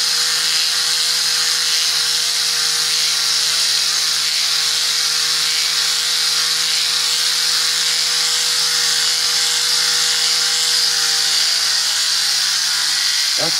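A Rodin starship coil motor running on 12 volts spins fast, giving a steady high-pitched whir and hum that holds constant and close throughout, without talk.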